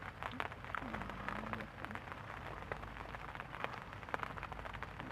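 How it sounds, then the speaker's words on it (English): Rain falls at a carp fishing lake, a faint constant patter of drops close by, broken by sharp individual splashes and light taps. "Here comes the rain again by the looks of things."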